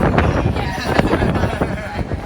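Steady wind buffets the microphone with a constant low roar and gusty rumble that continues without a break.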